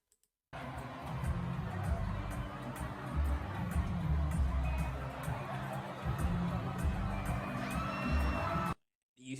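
Large concert crowd noise with lively chatter, whoops and rising cheers, continuous and fairly distant, cutting off abruptly near the end.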